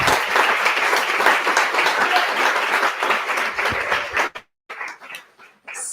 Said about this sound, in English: Applause to Viran.